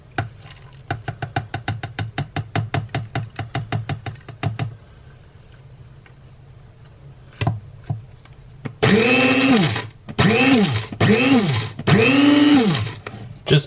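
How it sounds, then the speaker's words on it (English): A coffee grinder powders dried mushrooms, first a rapid string of clicks, then a quiet stretch, then three loud pulsed whirring bursts with a rising-and-falling whine, close up and with no talking. "pulse the coffee grinder kind of like a blender"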